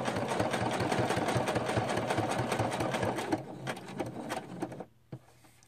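A sewing machine zigzag stitching around a paper tag for a junk journal, a steady fast mechanical whir that runs loud and close, then slows into a few separate stitch bursts before stopping.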